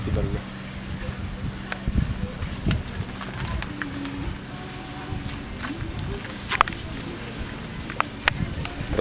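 Low rumbling wind buffets the microphone throughout beside a car on a roadside, with scattered clicks and voices talking over it outdoors.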